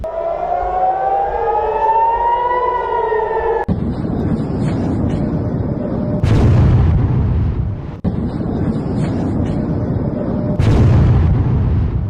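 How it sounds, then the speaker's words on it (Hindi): A siren wails briefly, then two heavy ballistic missile explosions boom a few seconds apart during the Israel–Iran war, each followed by a deep rumble. "की आवाज आप सुनिए, धमाके की आवाज।"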